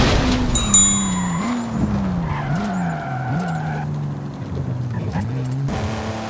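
A Nissan Datsun 280Z races in Forza Horizon 5, its engine droning and rising through gear changes while tires squeal and skid repeatedly, loud and close throughout.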